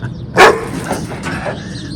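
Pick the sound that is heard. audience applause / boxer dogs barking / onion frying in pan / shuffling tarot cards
boxer dogs barking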